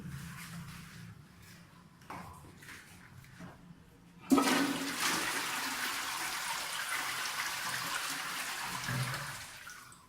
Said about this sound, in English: we can now go to the flush toilets